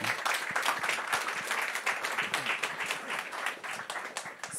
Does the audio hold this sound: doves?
no